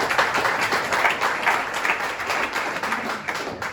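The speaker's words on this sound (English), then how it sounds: "Give an applause for them." A room full of people at a programming meetup claps steadily for a few seconds, a dense, even patter of hands with no voices over it.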